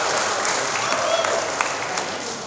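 An audience at a seminar in Yogyakarta claps in a dense, even burst of applause that holds steady for a couple of seconds.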